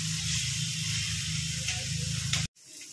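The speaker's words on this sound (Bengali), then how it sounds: "এবারে ডিমটা দিয়ে ভালো করে ভাজবো।" An egg fries in a hot pan with a steady, close hiss of sizzling oil over a low hum, which cuts off abruptly near the end.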